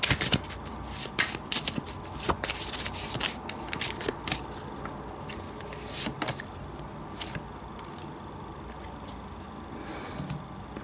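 Oracle cards from a Heal Yourself oracle deck being shuffled by hand, a steady run of soft riffling and rubbing with sharper card flicks and slaps, close and fairly quiet, with no talk.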